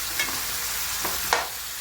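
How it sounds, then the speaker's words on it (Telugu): Bottle gourd pieces fry in a pan with onion while being stirred, giving a steady close sizzle broken by a few brief scraping stir sounds, with no talk. "మధ్య మధ్యలో కలుపుతూ ఉండాలి"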